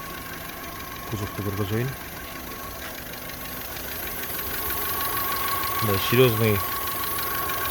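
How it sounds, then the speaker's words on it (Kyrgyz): A 2017 Volkswagen Polo engine idles in a steady, low mechanical hum with a faint buzzing vibration, constant throughout, while someone briefly talks over it twice. "Мына машинанын моторун көрүп атасыңар. Оталган, стабильно оталып атат."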